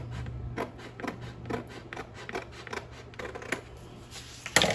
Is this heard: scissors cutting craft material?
yes